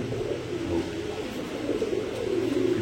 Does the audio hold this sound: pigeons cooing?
yes